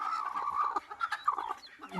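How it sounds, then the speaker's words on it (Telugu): Native country chickens on a farm clucking steadily and close by, with several birds overlapping in a busy, continuous chatter and no voices present. "కోళ్ళు చూడండి, నాటుకోళ్ళు జాతి కోళ్ళు గిట్లుంటాయి"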